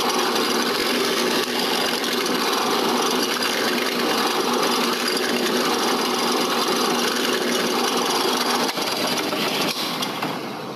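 A power tool, likely a scroll saw, cuts steadily through a wooden three-piece puzzle piece, a continuous buzzing whine that holds level for nearly eleven seconds before easing slightly at the end, with no talking.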